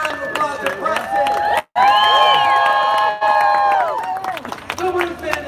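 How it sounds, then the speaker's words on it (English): Crowd at an anti-war rally in Los Angeles cheering and clapping, whoops and shouts over applause with a brief dropout, voices prominent throughout. "Give another round of applause to Preston"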